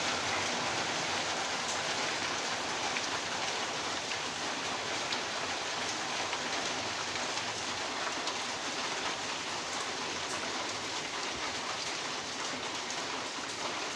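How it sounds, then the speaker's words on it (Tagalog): Heavy rain pours down steadily, a dense continuous hiss of drops on surfaces with no pauses. "Kaya lakas ng ulan, no?"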